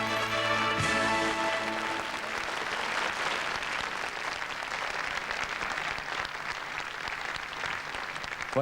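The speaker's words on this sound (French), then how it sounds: "je voudrais qu'on applaudisse vraiment fort toute la salle" Warm, sustained applause fills a hall for Geneviève de Fontenay at the Miss France 1995 jury presentation, steady dense clapping from the whole room, with a fading musical chord heard at the start.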